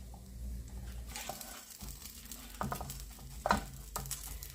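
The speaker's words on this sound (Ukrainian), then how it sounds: "Перемішуємо нашу лапшичку разом із фрикаделечками." Noodles and meatballs stirred together in a dry pan without oil, soft scraping and light sizzling close up with a few sharper utensil knocks near the end, no talking.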